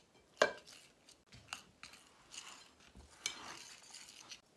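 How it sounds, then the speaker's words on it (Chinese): Flour, salt and warm water being stirred together in a bowl for flaky meat-pie dough: scattered light clinks and soft scraping strokes, close and fairly quiet, with no talking. "慢慢搅拌"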